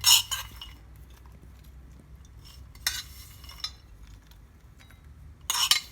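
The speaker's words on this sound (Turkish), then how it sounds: "Kavurduğum cevizleri de kereviz salatamın üzerine ekliyorum." Roasted walnuts are tipped onto a celery salad in a bowl, giving a few quiet clinks and light rattling taps at the start, the middle and the end, with near silence between.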